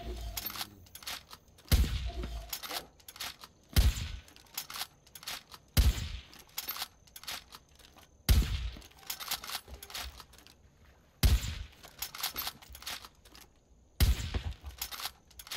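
Gunfire in Far Cry 5: sharp shots ring out every two to three seconds, each followed by a quick spray of smaller cracks and echoes, over a quiet background.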